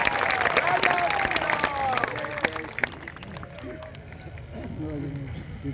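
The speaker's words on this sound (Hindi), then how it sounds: "जोरदार तालियों से पुनः से स्वागत है" An audience at an Ashvamedha Mahayagya event in Mumbai applauds to welcome Defence Minister Rajnath Singh, the clapping loudest at first and then thinning as an amplified voice speaks over it.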